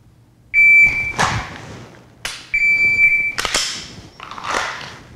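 Dry-fire trigger presses on an unloaded pistol, sharp clicks each followed by a short snap, repeated about three times over a few seconds alongside beeping tones from a shot timer.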